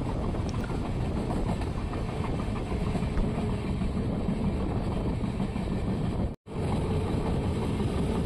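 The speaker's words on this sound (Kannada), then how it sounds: "ನಮ್ಮ ಟ್ರೈನ್ ಈಗ ತುಂಗಭದ್ರಾ ನದಿ ಬ್ರಿಡ್ಜ್ ಮೇಲೆ ಹೋಗ್ತಿದೆ" A train rolling across the Tungabhadra river bridge on the Solapur to Bangalore route, a loud steady rumble of wheels and carriages close by, with one brief break near the end.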